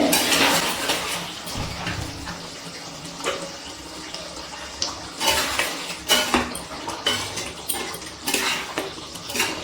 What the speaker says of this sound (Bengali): ভালো করে একটুখানি নাড়াচাড়া করে নিচ্ছি।